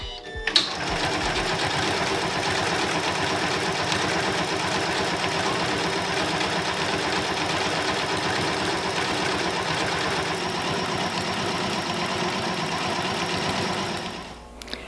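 A Janome sewing machine runs a sashiko stitch to quilt a boho gem pillow cover, a steady, close mechanical chatter that keeps going without a break for about fourteen seconds before it stops.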